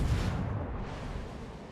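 Heavy warship gunfire from a naval battle video game featuring the New Mexico: a loud, deep boom that rolls into a long rumbling decay over nearly two seconds, with no voices.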